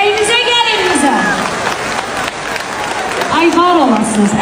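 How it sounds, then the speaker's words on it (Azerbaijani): Guests at a wedding celebration applaud for the bride and groom, steady clapping under a singer's melodic voice and music. "Mən Adılza Alayı gözəl bir alqış istəyirəm"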